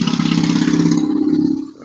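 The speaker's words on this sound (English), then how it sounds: "That motorcycle's loud as hell." A loud motorcycle roars close by, its engine drone strong and steady before fading quickly at the end, with no talking.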